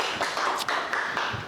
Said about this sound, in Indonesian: beri tepuk tangan dulu untuk teman-teman yang sudah menjawab tadi